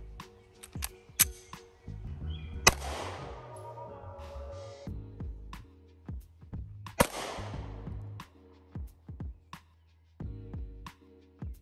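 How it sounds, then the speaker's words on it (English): A 9mm compact pistol, such as a Canik TP9 SC or Sig Sauer P365, having its slide racked: sharp metallic clicks and snaps come in scattered bursts, with two louder clacks that ring briefly, against a quiet background. "So she's gonna rack that slide first."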